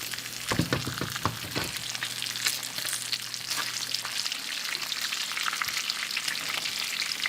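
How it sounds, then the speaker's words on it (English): Eight strips of bacon fry in a pan, giving a steady close sizzle and crackle with scattered pops throughout, heard alone without talk. "Right now, I'm doing the bacon. It takes 8 pieces of bacon."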